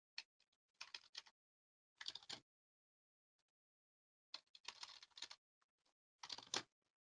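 Short bursts of quiet keystrokes on a computer keyboard come in separate clusters with silent gaps between them, heard alone and close.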